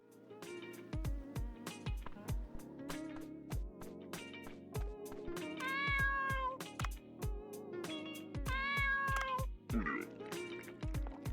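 Momo, the sushi bar cat in Dave the Diver, gives two clear, drawn-out meows over bouncy, rhythmic background music with a plucky beat.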